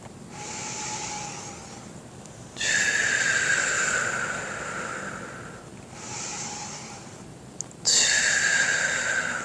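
Long, steady breaths during tai chi cat walking practice, each exhale a soft airy hiss lasting several seconds, alternating with quieter inhales, close and clear with no talking.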